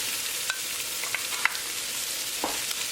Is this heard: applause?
no